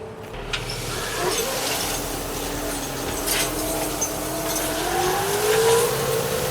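A tractor pulling a chain harrow and broadcast seeder across a hay field gives a steady engine drone that rises gradually in pitch as it picks up speed, with light rattling over the top.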